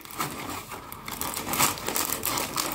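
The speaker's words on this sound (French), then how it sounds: "c'est pas toujours évident de déballer ça" Crinkling plastic packaging being pulled open around a door plaque, a close, steady rustle and crumple running throughout with brief louder crackles.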